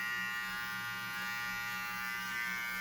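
A cordless rechargeable ORIHEA all-in-one trimmer runs with a steady, even electric buzz, quiet and close, continuous without change and with no voices.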